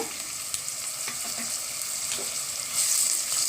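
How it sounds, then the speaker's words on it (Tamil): Onion and ginger garlic paste sautéing in a pan for bread biryani, a soft steady sizzle with occasional light utensil taps and scrapes, quiet overall with a brighter hiss near the end. "வெங்காயம் இஞ்சி பூண்டு நல்லா வதங்கணுங்க"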